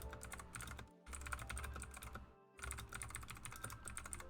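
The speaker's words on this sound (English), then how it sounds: "I'm sorry for my clickety-clackety in the background here. I have a very loud keyboard" Rapid clattering keystrokes on a loud computer keyboard, close and continuous, with two brief pauses between bursts of typing.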